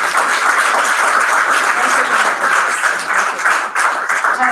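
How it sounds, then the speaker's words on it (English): Sustained audience applause from a crowd at a volunteer speaker event, steady and fairly loud throughout with dense, continuous clapping and no pauses. "Another round of applause,"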